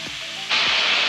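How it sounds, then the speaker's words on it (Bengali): An egg frying in a pan gives a steady broadband sizzle that grows noticeably louder about halfway through, then holds level and close with no talking. "ডিমটা ভেজে নিচ্ছি"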